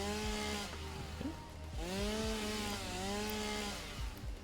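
A chainsaw whines and bogs while cutting wood in The Long Road, its engine pitch rising and falling in repeated strokes, loud and close with no talking.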